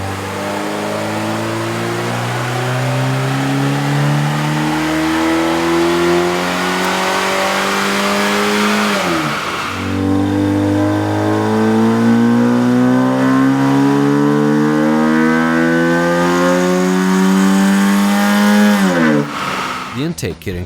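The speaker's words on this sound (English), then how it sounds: "we ran the vehicle on the dyno to test the sound comparison versus the stock intake" A Chevrolet Cobalt 2.2L four-cylinder engine fitted with a K&N cold air intake running on a dyno, revving up steadily in two long loud sweeps with a brief drop between, then winding down.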